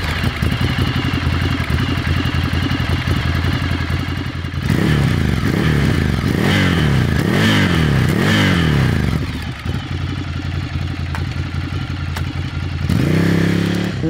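A 2021 Ducati Scrambler Nightshift engine runs nearby, a deep, meaty rumble rising in a few revs mid-way before dropping back to a steady idle, then swelling again at the end, with no voices over it.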